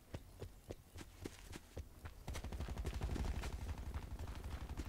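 Repeated sharp gunshots crack out in the Black Ops 4 video game, spaced single shots at first, then a faster, louder stretch of rapid fire mixed with movement sounds.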